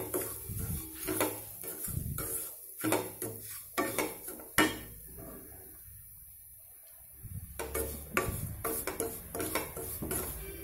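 A spoon scraping and clinking in a pan while rava roasts in ghee, repeated irregular stirring strokes, close and fairly quiet, with a short lull in the middle before the stirring resumes.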